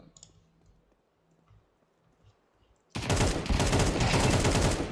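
Sudden dense burst of rapid automatic gunfire in a Counter-Strike-style competitive match, loud and sustained for about two seconds after a quiet stretch.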